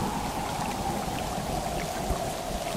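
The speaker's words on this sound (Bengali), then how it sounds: "সেদিন সন্ধ্যা থেকে শুরু হলো খুব ঝড় বৃষ্টি।" Heavy rain pours steadily throughout a cartoon storm scene, a dense, even hiss of drops with a low rumble underneath, continuous and fairly close, with no voices.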